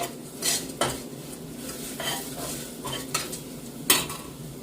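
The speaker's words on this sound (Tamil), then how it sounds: "நல்லா ஒருக்கா மிக்ஸ் பண்ணி விடுவேன்" Chili powder being stirred into a pan of fried eggplant curry, a spoon scraping and clinking against the pan in a few distinct strokes over a soft background sizzle, close up with no talking.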